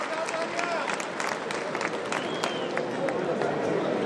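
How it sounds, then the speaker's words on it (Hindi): An audience at a Delhi community conference claps to welcome a speaker, producing a dense, continuous burst of applause with crowd murmur mixed in. "जोरदार तालियों से स्वागत करें।"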